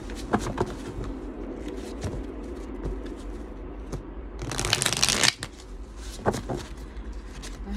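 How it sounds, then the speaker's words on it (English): Deck of playing cards shuffled close by, scattered taps and light handling followed by one loud, dense riffle, then more quiet card handling against faint background noise from an open window. "Let's go ahead and get a good shuffle."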